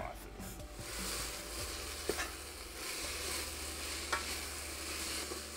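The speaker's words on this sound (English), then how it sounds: "we'll get that on like, say, a medium-high heat because we want to get all of those flavors started, get the onion nice and translucent" Onion cooks in a pan over medium-high heat, giving a soft, even sizzle with a couple of brief scraping stirs, fairly quiet and steady throughout.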